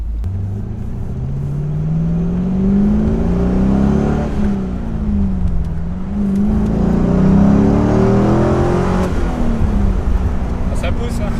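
A Corvette C5 Z06 accelerating hard, its loud engine note climbing through the revs, dropping at gear changes and pulling up again, heard close from inside the car.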